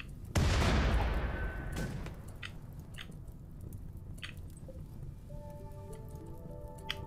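Gunfire in the Rimworld video game: a loud burst hits near the start, a second crack follows about 1.5 s later, then scattered sharp pops and softer clicks trail off over a steady low background.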